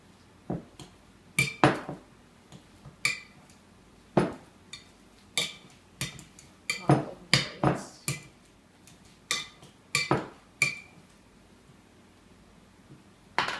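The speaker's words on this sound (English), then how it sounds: "Okay, so we're going to mash these up really quick." A masher works through bananas in a bowl for homemade dog treats, giving a steady run of sharp clinks and knocks as metal strikes the bowl, close and clear, roughly one hit every second.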